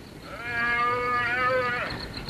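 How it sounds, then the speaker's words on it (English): A calf bawls in one long, drawn-out, wavering cry that rises and then falls off at the end. The call sounds fairly close and stands alone over faint background noise. "You hear that calf bawling?"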